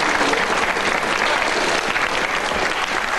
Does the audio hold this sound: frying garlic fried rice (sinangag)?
no